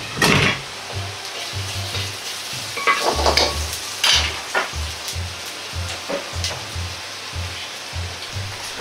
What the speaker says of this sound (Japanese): 生姜を入れ香りが出るように炒めます。